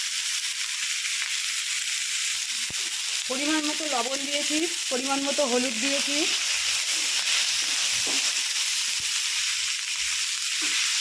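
Chicken pieces sizzle steadily in a pan with ginger-garlic paste and green chillies, a constant close frying hiss throughout, while someone speaks briefly over it.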